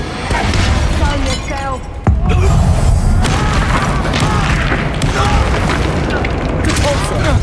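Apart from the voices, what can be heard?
Expulso explosion spell in video game Hogwarts Legacy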